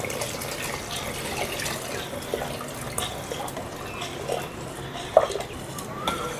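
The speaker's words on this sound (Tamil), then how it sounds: "இதை கொஞ்சம் கொஞ்சமாக ஊற்றி இந்த குழம்புல கிளறி விடுவோம்." Thin rice flour batter poured gradually into a simmering mutton curry and stirred, giving soft liquid sloshing and scraping with a few brief clinks, steady and close.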